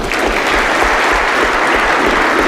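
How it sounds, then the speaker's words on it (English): Loud, dense applause from a conference audience of Beatles fans, a steady continuous wash of many hands clapping close up throughout. "by a round of applause, how many of you are Beatles fans?"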